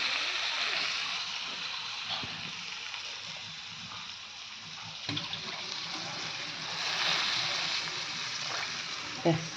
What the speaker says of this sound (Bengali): হয়ে গেছে আমার সব কষানো এবার আমি জল দিয়ে দেবো